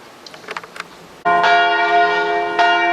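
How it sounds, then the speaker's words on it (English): A church bell rings for the noon service in a small historic church tied to the Bach family, its full resonant strokes sounding after a quiet moment and ringing on sustained and clear. "here they're ringing the bell in this church for the noon service"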